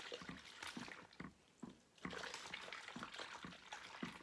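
Sourdough leaven being stirred by hand into warm water in a bowl, giving close, irregular sloshing and splashing swirls that continue steadily with a brief pause midway.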